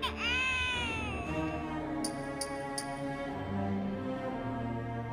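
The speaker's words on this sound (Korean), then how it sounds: "건전지 없이 우는 아기 인형까지." A baby doll with no batteries cries in a long, wavering wail that slides down in pitch. Three short, sharp high ticks come near the middle, and a steady background murmur persists throughout.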